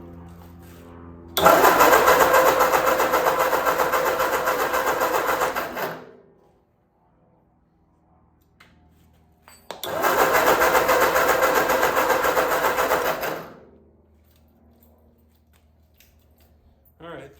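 A 1946 Ford 2N tractor engine cranks over on the starter during a spark test: two loud, steady bursts of churning, whirring cranking, each about four to five seconds long, with a quiet pause between them and no start.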